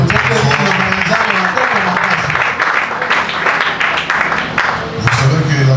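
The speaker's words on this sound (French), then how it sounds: "On acclame la parole de Dieu." A church congregation breaks into sustained, loud applause that fills the whole stretch, dense and even, with a brief voice surfacing near the end.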